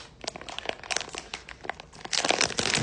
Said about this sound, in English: Do like we do in the pen, bite. And split the bag on down.